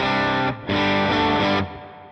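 An electric guitar rings through a Line 6 POD Go amp model with a slightly crunchy, edge-of-breakup tone, two strummed chords with a brief gap between them.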